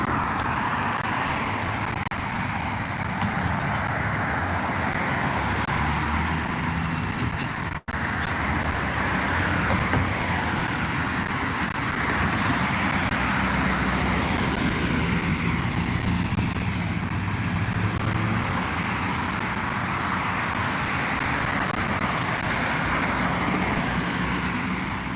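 Busy street in Abu Dhabi with cars and taxis passing, a steady, continuous roar of road traffic that holds for the whole stretch with no voices.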